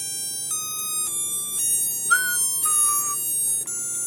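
A digital wall clock alarm sounds continuously as a shrill, high-pitched electronic tune, its pitch stepping every half second, with no talking over it.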